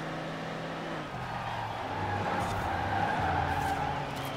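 Tyres skid and squeal as a 2006 Hummer H1 Alpha Open Top drifts in Forza Horizon 4, a steady engine drone under a rising screech that swells louder toward the end, with no talk.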